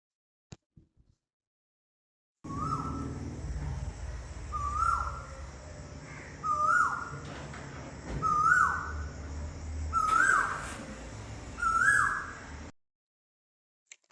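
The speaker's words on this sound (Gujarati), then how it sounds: "પછી છે કોયલ. હિન્દીમાં તેને કોયલ કહેવાય છે." An Asian koel calls alone, five rising, repeated whistled notes spaced about every two seconds, clear and fairly close, over a soft steady background hiss.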